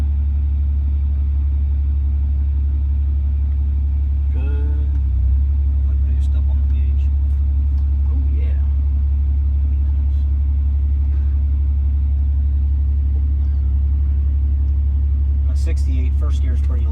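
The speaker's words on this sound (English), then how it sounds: "Let's do a full wrap launch." A diesel truck fitted with a brand new transmission and new parts idles with heavy, steady low rumble and builds boost for a full launch, the engine drone constant and loud throughout, with people talking faintly over it.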